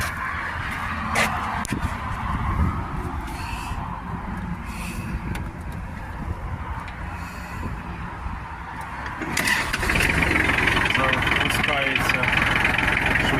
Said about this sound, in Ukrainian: Робимо пуск двигуна.